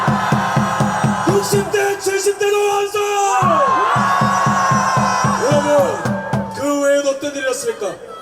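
A rally crowd at an anti-impeachment gathering in Daegu shouts on command, loud massed cries and chanting pulses mixing with an amplified speaker's voice over a busy outdoor hubbub.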